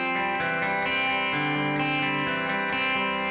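Electric guitar plays a repeating two-bar riff with sustained, slightly crunchy clean chords, washed in reverb that lets each note ring into the next.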